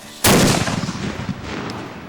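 A cannon fires at a shooting competition with 200-yard bullseye targets: a single loud, close blast hits suddenly and rolls into a long, rumbling decay across the open range, with no voices.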